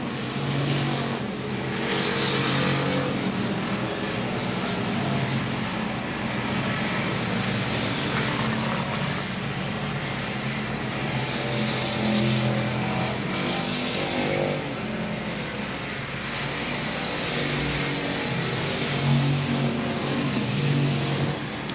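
Race cars circling South Texas Speedway, engines droning and swelling as cars pass, a continuous roar from track distance.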